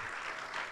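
A church congregation applauds at a worship service, a brief, dense wash of many hands clapping at once, steady and fairly faint, with no talk.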